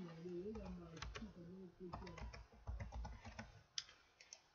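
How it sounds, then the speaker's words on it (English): Typing on a computer keyboard, a scattered run of light key clicks under a voice talking throughout. "all I'm going to do is I'm going to type in suspend."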